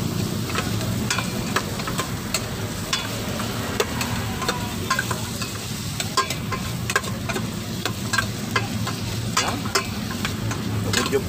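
Onion and garlic sautéing in a pan for Bicol Express, a constant close sizzle broken by frequent scraping and stirring clicks from a utensil.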